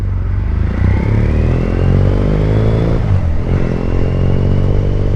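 A Triumph Bonneville motorcycle with a modified exhaust revs up close and loud, its deep exhaust note rising and falling through a throttle blip as it pulls away in first gear.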